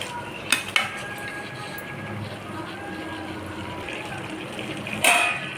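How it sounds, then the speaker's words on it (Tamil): About a kilo of chicken sautés in a pan for chicken curry: a low background sizzle with a few sharp metal clinks of a utensil against the pan near the start and end. "நான் ஒரு கிலோ சிக்கன் அளவு எடுத்திருக்கேன் நல்லா வதங்கட்டும்"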